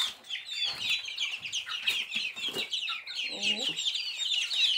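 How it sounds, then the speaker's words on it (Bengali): Tiger chickens and their chicks make busy clucking and high peeping calls close by, in quick irregular bursts, with a brief low voice in the middle. "এই টাইগার মুরগিগুলো।"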